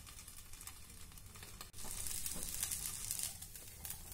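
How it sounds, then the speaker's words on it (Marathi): A thalipeeth flatbread roasts in a covered pan over a medium gas flame, giving a steady, quiet sizzle and crackle with no talking. "झाकण ठेवू आणि मध्यम गॅसवर हे थालीपीठ भाजून घेऊया"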